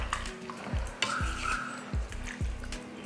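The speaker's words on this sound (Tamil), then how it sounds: "தண்ணி சேர்த்து கலந்து விட்டாச்சு." Cauliflower curry in a pan, stirred with a spoon just after water is added, giving soft wet scrapes and sloshes in a steady rhythm of about four strokes over a gentle sizzle, close by with no talking.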